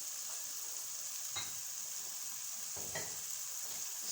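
Chicken and vegetable samosa filling fries lightly in a pan with a steady soft sizzle, joined by two brief stirring scrapes, close and even throughout.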